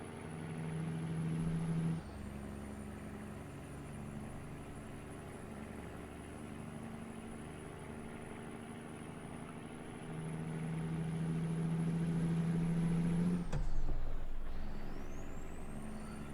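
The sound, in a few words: truck close behind, American Truck Simulator video game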